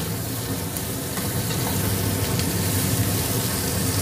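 A kitchen chimney exhaust hood runs with a steady, broad whooshing hum, close and constant throughout, with a faint sizzle of oil underneath and no talk.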